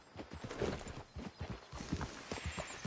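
A horse gallops in a PS4 video game, its hoof beats forming a steady, rapid clip-clop that runs the whole time at moderate loudness, with no talk over it.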